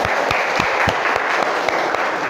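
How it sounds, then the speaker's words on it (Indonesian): Classroom audience applause in a school teaching session, a dense steady patter of many hands clapping at even loudness throughout, with sharper individual claps standing out now and then. "Oke, tepuk tangan."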